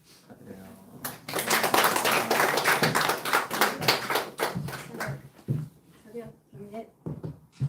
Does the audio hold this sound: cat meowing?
no